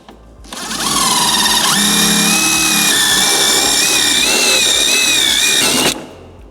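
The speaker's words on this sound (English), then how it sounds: "we're going to drill a hole for the speaker wire" A power drill whines loudly for about five seconds drilling a hole in a motorcycle fairing, spinning up and holding a steady high pitch before stopping abruptly.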